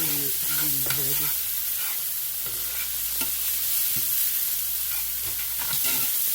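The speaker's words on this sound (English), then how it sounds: "Drop in a tablespoon more of butter onto my veggies." Vegetables with butter sizzle steadily in a heavy iron skillet, a loud continuous frying hiss with occasional spatula scrapes and light knocks; a brief voice is heard at the start.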